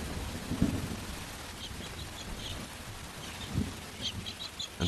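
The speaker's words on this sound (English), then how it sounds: "The deluge sweeps thousands of kilometres across the centre of the continent." Heavy rain from a cyclone-driven deluge in central Australia pours steadily, broken by low rumbles of thunder, with faint bird chirps in the distance.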